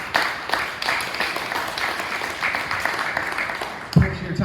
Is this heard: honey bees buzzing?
no